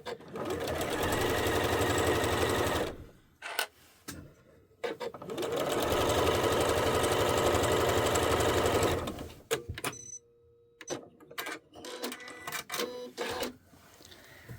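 Quilt pieces are stitched together on a sewing machine in two long, loud runs of several seconds each, then short stop-start bursts with clicks and handling noises, close up and without speech.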